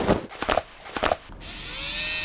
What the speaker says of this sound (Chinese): 首先打磨一下我的模型。